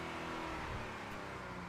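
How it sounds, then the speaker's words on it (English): A Nissan VR30 engine revs in a racing video game, a steady, loud, rasping drone with sustained harmonics held for under two seconds, no voices over it. "That engine, that VR30 does not sound good."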